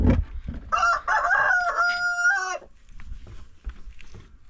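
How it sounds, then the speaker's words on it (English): A rooster crows loudly nearby in one long drawn-out call, with hens clucking and other farmyard noises around it. "You see these chickens here?"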